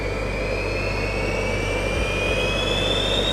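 Five small jet engines on a wearable jet suit spool up from cold toward idle around 30,000 RPM, giving a loud, steady close-up roar with a rising high whine that holds throughout.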